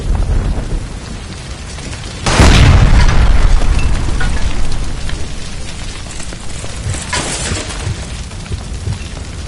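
A gas line blows up in the L.A. Noire video game, a loud boom swelling out of steady rumbling noise and holding for a couple of seconds before easing back into the roar, with a second lesser burst later.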